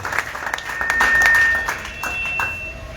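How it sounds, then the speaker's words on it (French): A church congregation claps for the Lord, a short burst of scattered, moderately loud applause. "Acclamez très fort pour le Seigneur"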